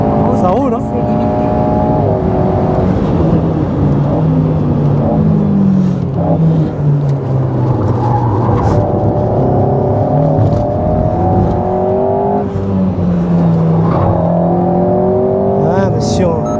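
An Alpine A110 S sports car accelerates around the Paul Ricard circuit with its engine note climbing and falling through gear changes. The sound is loud and continuous from inside the cabin, while someone talks throughout.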